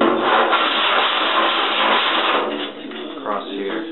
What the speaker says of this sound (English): I'm using my body file. Find the high spot, just run it diagonally